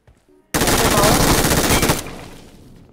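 Sustained automatic gunfire in PUBG Mobile, a loud dense burst of rapid shots lasting about a second and a half, then cutting off into a lower lingering rumble, preceded by a brief faint voice.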